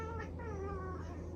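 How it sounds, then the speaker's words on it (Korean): A cat meows in a few drawn-out, wavering cries that rise and fall, fairly faint and alone against a quiet background. "고양이가 여기 있어가지고"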